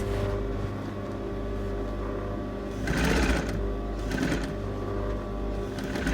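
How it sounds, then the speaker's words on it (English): A sewing machine stitches dress lining to the seam allowance with a steady close whir, and its speed swells in two brief bursts. "I'm literally sewing a line about 2 or 3 millimeters in from the seam"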